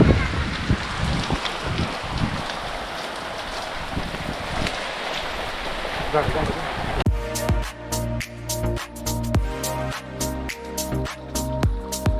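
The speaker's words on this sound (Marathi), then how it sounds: "पाऊस काय थांबायचं नाव घ्या ना" Steady rain on the Panhala to Pawankhind trek route hisses and patters throughout, with gusts of wind noise buffeting the microphone and a burst of louder, rhythmic drumming near the end.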